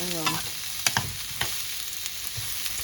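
Vegetables such as onion and peppers stir-fried in a pan for a shrimp noodle dish, a steady close sizzle broken by a few sharp clacks of a utensil against the pan, with no talking.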